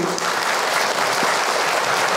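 Audience clapping at an Islamic religious lecture by Ustadz Hilman Fauzi, a steady, close wash of many hands throughout with no talk over it.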